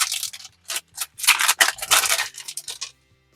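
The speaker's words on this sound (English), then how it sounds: "Grab our scissors here, cut that open." Scissors cutting open a cardboard box for a USB plug socket, giving a series of close, crisp snips and scraping cuts in irregular bursts that end in quiet.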